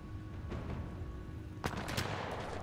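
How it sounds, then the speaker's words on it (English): Gunfire in the shooter game Titanfall 2, faint scattered shots early on, then a sharp crack followed by a short burst of rapid shots, all fairly quiet and distant-sounding. "Who's shooting at me?"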